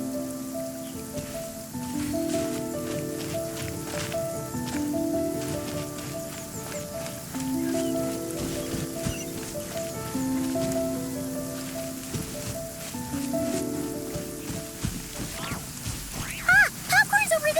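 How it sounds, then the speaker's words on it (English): Rain falling in Genshin Impact, a steady hiss of raindrops under layered in-game music and effects, with a few louder clattering sounds near the end. "I like the rain."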